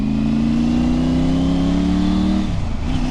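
A Triumph Tiger 900 Rally motorcycle accelerates hard on a highway. The loud, close engine note climbs steadily, dips at a gear change, then starts rising again.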